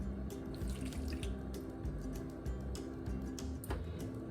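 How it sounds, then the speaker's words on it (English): About 60 milliliters of water is poured into a bowl with sugar and soy sauce for mitarashi sauce in a Japanese kitchen, a steady close trickle and splash with faint clinks and no voices. "And then next 60 milliliter of water."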